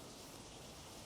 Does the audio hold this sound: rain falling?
yes